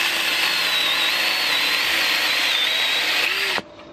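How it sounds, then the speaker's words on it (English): A mini portable electric chainsaw whines loudly and continuously at close range as it cuts, then stops abruptly near the end. "That's probably the tiniest real chainsaw over here I ever used."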